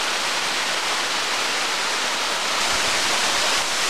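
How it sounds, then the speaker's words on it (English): A cascading waterfall beside a hiking trail, heard from its top, sends out a loud, steady rushing roar with no pause throughout. "this is the top of that cascade"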